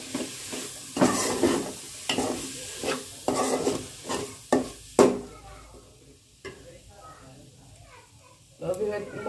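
Masala for chicken khichdi is stir-fried in a pan, with loud, rhythmic scraping and clattering strokes over a frying sizzle that pause toward the end, and a voice is heard at times.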